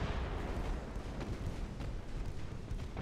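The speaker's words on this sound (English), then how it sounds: "That's a torpedo hit" Naval battle in Ultimate Admiral: Dreadnoughts, a destroyer's torpedo striking a ship amid continuous rumbling booms and distant artillery-like blasts, a dense, steady roar with no single sharp peak.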